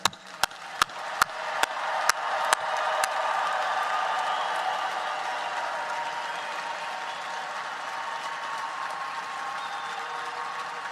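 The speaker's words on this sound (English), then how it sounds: "Let us join in tribute with a rousing round of applause for today's promising young doctors." Audience applause fills a university commencement hall, opening with a few sharp isolated claps before swelling into sustained, dense clapping that holds steady and fairly loud through to the end.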